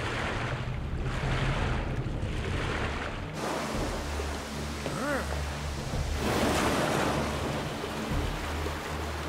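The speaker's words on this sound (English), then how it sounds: "The river current is running too fast, and now we're being pulled to the rapids!" Fast river current rushes toward rapids in an animated series, a loud continuous roar of water with wind-like surges and no voices.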